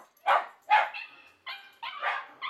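A Shiba Inu gives a series of sharp, high yips and barks, five bursts spaced unevenly over a couple of seconds, fairly close and otherwise alone.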